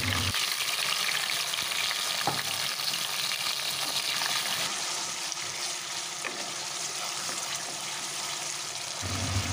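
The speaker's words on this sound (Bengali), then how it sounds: "এখন বাটা টমেটোটা আমি এর মধ্যে দিয়ে দিলাম।" Ground tomato paste hits hot oil with a whole cumin tempering. A strong, steady frying hiss with intermittent stirring clatter runs close and unbroken, without speech.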